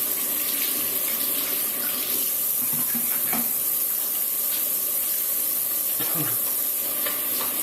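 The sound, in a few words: water running from tap while washing hands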